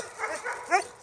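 Jämthund dog giving a couple of short yips and a whimper up close, with quiet background between the brief calls.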